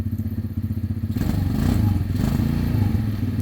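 A Tao Tao Bull 200 ATV engine idles with a rapid throb and slight hesitation, then revs up briefly and settles back, loud and close with some rattling.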